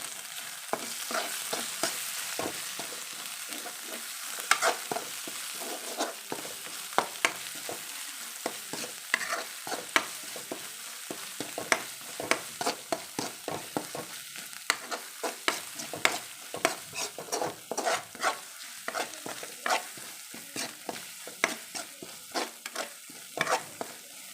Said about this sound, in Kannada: ಈಗ ಕರಿಬೇವು ರೋಸ್ಟ್ ಮಾಡ್ತಿದ್ದೀನಿ.